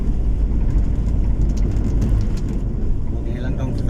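A car drives along a mountain road in the highland province of Negros Occidental, its engine and tyre rumble a loud, steady drone throughout.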